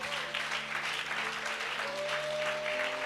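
A church congregation applauds in a steady, dense wash of clapping that holds for the whole stretch, with sustained musical tones running faintly underneath.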